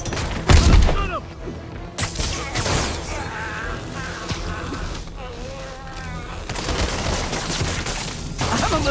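Gunshots crack in bursts during a Shocker boss fight in the video game Marvel's Spider-Man, mixed with whooshes and impacts and loud game effects, while characters shout over the action.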